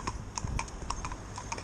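A competition pair of horses walks on, hooves striking in a clear, irregular clip-clop rhythm of sharp, close knocks while being driven.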